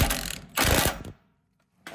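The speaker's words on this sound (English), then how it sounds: "using an 18mm socket, I'm going to go ahead and secure this bolt in place." An 18mm socket on a ratchet tightens a bolt during a Jeep Gladiator lift kit install, giving two close bursts of rapid mechanical clicking and then a pause before another short burst starts.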